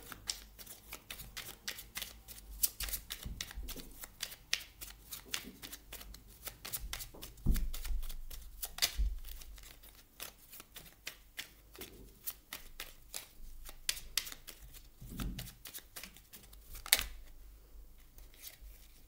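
A deck of oracle cards is shuffled by hand before one is drawn, producing a long run of close, rapid riffling flutters and taps with a few louder slaps, and no talking.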